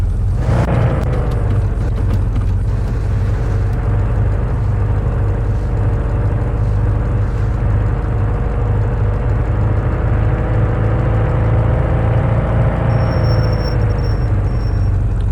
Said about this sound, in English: This car is so loud it be sounding like two cars.